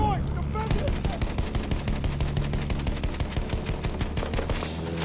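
Sustained rapid gunfire from Battlefield 1, a dense, steady, loud stream of repeated shots with engine-like drone underneath, continuing for the whole stretch without pause.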